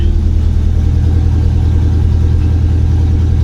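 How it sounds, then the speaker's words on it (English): Engine fitted with a Chinese carburetor idles at very low RPM, a steady, loud, low-pitched thrum with an even pulsing rhythm and no talk over it. "I can make it idle at a very low RPM"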